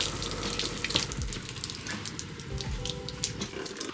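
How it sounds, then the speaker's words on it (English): A shower head in a camper van build sprays water steadily for a few seconds, a close, continuous hissing splash with small irregular droplet spatters and no voices. "I'm going to put the shower head on."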